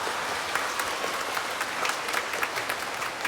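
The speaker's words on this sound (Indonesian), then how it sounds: "Tepuk tangan untuk kalian." Audience applause at a church talk, a steady dense patter of many hands clapping throughout, fairly close and sustained without pause.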